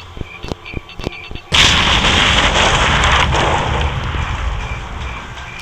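Explosives detonate in the survival video game Last Day on Earth: a few sharp cracks give way to one loud, sustained blast with a long rumbling roar that slowly fades.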